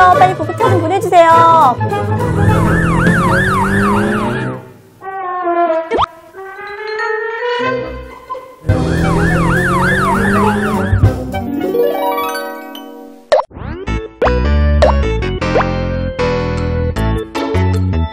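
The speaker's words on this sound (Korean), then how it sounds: "빨리 구급차 좀 보내주세요" Cartoonish toy-like siren wails rise and fall in looping, warbling bursts, loud and close, broken by short pauses and playful electronic effects in a children's ambulance drawing-and-clay coloring scene.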